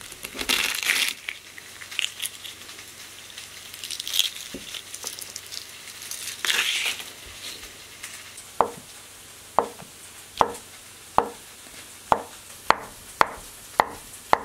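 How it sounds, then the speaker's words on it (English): Four hard-boiled eggs are chopped on a board, at first with irregular soft crushing and scraping, then with a steady run of crisp knife strikes near the end. "Last, we need to get our 4 hard-boiled eggs chopped up."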